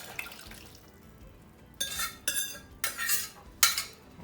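Cooked chickpeas and their cooking water tip into a pot of Punjabi chole with a few bursts of splashing and clattering, close and fairly loud after a quiet start, with no talking.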